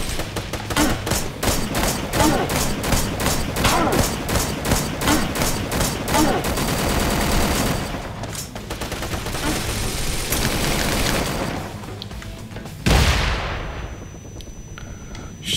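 Dense gunfire from a boss fight in the video game Wanted Dead, rapid repeated shots in bursts with heavy rattling fire throughout, a loud blast near the end, loud and close with faint talk beneath.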